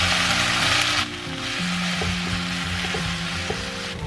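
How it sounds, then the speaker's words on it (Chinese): Peas and chopped tomatoes stir-fried in melted lard with scallion whites for a bean soup rice dish, a loud steady sizzle that drops back after the first second into crackling frying with soft stirring scrapes, no talking. "再把切好的西红柿放上去一起炒"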